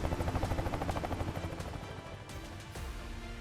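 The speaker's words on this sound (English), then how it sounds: "The sound of helicopters echoed in the fiery sky." Helicopters in flight give a rhythmic rotor chop that pulses steadily, moderately loud and then fading a little as it drifts, with some sharp cracks late in the sequence.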